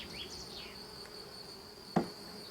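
Honeybees buzz around a hive box holding a rescued swarm on five frames, a thin steady insect hum with a few passing buzzes and one sharp knock near the end, faint and without talking.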